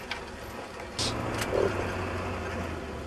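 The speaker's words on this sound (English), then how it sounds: "pull over a little bit, let these cars go by." Cars driving past on a road near Nashville, a vehicle's engine swelling suddenly close by and carrying on as a steady, moderately loud hum.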